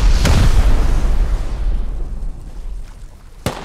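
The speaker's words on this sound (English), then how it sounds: "Whenever you shoot a rocket, I'll shoot a rocket." A rocket explodes in the Rust survival game: a heavy boom near the start that rumbles and fades over a few seconds, then a second sharp blast near the end.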